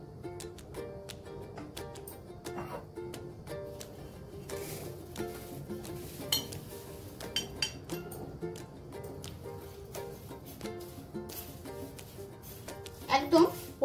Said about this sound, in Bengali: সবার আগে চিড়েটাকে আমি একটু চেলে নিচ্ছি